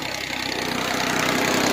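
Tractor engine idling, a steady low mechanical chug with even rhythmic pulsing, close and continuous with no talk.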